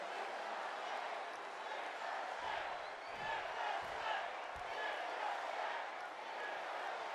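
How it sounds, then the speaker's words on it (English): Wrestling arena crowd chanting for Ricochet before his match with Kross, a steady roar of many voices with rhythmic chant swells and a few deep thumps, continuous and fairly loud throughout. "The crowd chants for Ricochet."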